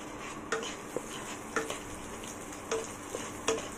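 Garlic fries in a hot pan with a steady sizzle, stirred now and then so that utensil scrapes and taps stand out at regular intervals; no one talks.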